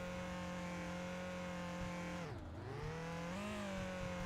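A car engine in the My Winter Car driving game, pushed to overheating, drones loud and steady at high revs. Its pitch sags sharply for a moment midway, then climbs back to a strained, sustained roar. No voices are heard.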